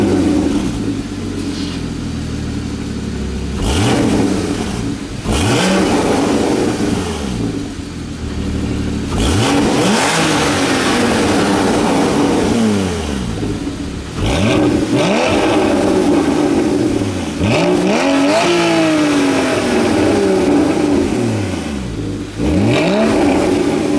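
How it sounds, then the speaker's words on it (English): A Porsche 981 Cayman GT4 on its stock exhaust, idling loud and near and then revved several times, each blip rising sharply and falling back through a rough burbling idle. "let's hear that and a couple of revs from the completely normal stock GT4 exhaust."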